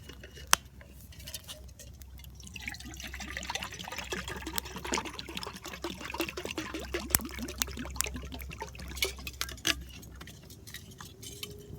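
Water pours and trickles steadily into a metal canteen cup resting on a wood-burning Paleo Stove outdoors, with light clinks and patter as it fills, fairly close and without talk.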